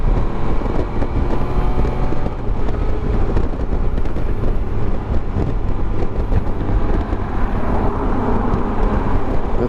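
A 2021 Can-Am Spyder RT Limited three-wheeler engine revs hard at full throttle, a loud, steady drone with heavy wind rush over the microphone that holds for the whole stretch without a break.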